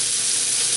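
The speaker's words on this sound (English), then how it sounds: "And they're searing up real nice." Venison backstrap sears in a hot pan, a steady, loud, close sizzle that holds evenly without pause through the short moment.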